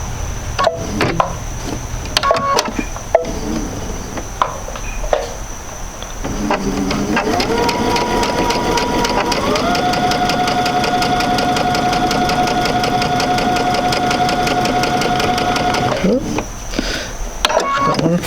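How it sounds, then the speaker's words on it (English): Sewing machine stitching along a laser-guided line for a quilted sampler: a steady, even mechanical hum with a whirring tone runs for about nine seconds, close and loud, framed by handling clicks and rustling before and after. "It's just going to sew right on the line, and I have a nice visual with that laser light."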